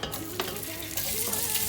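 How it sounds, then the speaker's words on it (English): Meat frying in a pot for yam porridge, with onions to follow: a steady, close sizzle with stirring scrapes running alone throughout. "fry it a bit"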